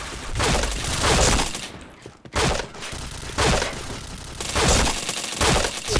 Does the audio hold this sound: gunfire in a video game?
yes